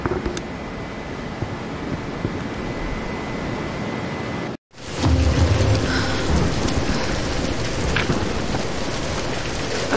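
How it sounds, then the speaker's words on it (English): Heavy rainstorm in the video game Tomb Raider Definitive Edition, a steady dense hiss of rain that cuts out briefly midway, then returns louder with a deeper low rumble, with no voices. "We're getting closer to the storm."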